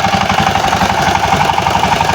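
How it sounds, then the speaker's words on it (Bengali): A power tiller engine runs in a village, a steady close chugging drone with a fast pulsing beat and no voices. "দেখেন এই যে কত সুন্দরভাবে মেশিনটা দিয়ে স্টার্ট দিচ্ছে পাওয়ার টিলার।"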